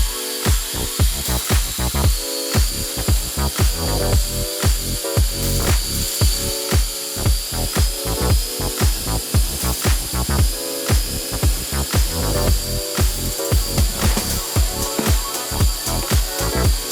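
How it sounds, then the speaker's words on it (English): A machine polisher whirs and rubs in rapid repeated passes around the GT badge on an Audi R8 GT, loud and close, a steady pulsing drone with no voices. "just spent time polishing around the GT badge"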